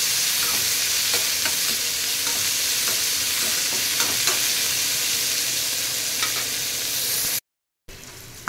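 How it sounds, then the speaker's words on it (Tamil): Onions sautéing in a pan for ash gourd kootu: a continuous loud sizzle and frying hiss with occasional scrapes of stirring, briefly cut out near the end before resuming. "அதையும் நல்லா ப்ரௌனாக கொஞ்சம் வதக்கணும்."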